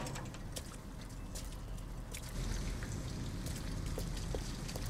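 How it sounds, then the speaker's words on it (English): Steady rain falling in the video game Detroit: Become Human, a dense continuous patter with scattered drops hitting surfaces, evenly loud throughout and heard alone without talk. "Oh, to be fair, it's still raining"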